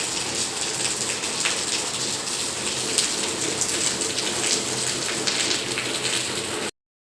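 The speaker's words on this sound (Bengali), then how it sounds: "দেখো কি বৃষ্টি শুরু হয়েছে" Steady, heavy rain falls on surfaces nearby, a dense, constant hiss with scattered drops, continuing evenly before cutting off abruptly.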